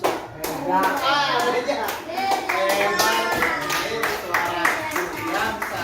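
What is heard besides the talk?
class clapping for a student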